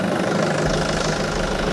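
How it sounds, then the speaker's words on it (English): A Massey Ferguson tractor engine starts up and settles into a loud, steady rumbling idle, the low throb kicking in partway through and running continuously. "They've started the engine"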